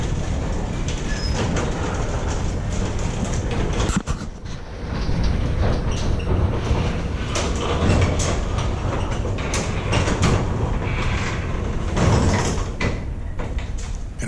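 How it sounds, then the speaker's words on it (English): A Liftmaster 8500W opener raises a garage door, the door rumbling and rattling steadily along its metal tracks at close range. A short clunk lands near the four-second mark, the motor itself stays nearly silent, and no one speaks. "all you hear was the door on the tracks. You don't hear the actual opener"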